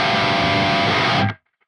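Baritone seven-string electric guitar in drop G through an overdrive pedal into a Neural DSP Archetype Gojira amp, one thick sustained distorted chord ringing loud and alone before stopping abruptly.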